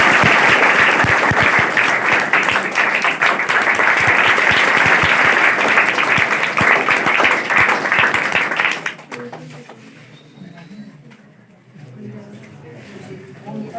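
Tenth class students clap together at a motivational talk, a loud dense round of applause for about nine seconds that stops abruptly and leaves quieter room sound.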